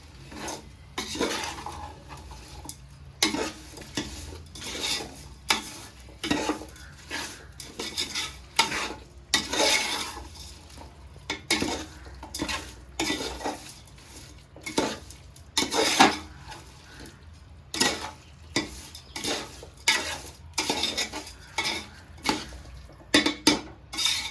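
A spoon scrapes and stirs through vegetable biryani ingredients and salt in a metal pot, in a run of repeated clanking strokes over a faint sizzle.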